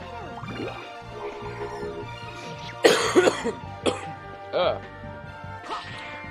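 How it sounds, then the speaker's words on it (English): A person coughs in a few harsh, close bursts, partly mixed with talking and game sounds. "Still got a little bit of the coughs in me."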